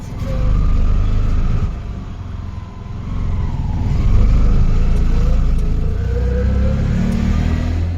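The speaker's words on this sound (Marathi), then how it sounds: "ह्या रिक्षाने आम्ही जातो आता पनवेल स्टेशन" An auto-rickshaw engine rumbles steadily during a ride toward Panvel station, a low, continuous drone with slight swells as it accelerates, heard from inside the vehicle without talk.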